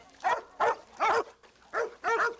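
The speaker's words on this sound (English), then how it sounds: "Dog with bark." A working sheepdog in New Zealand barks five times in quick succession, each bark short and clear with brief pauses between, fairly close and alone without talk.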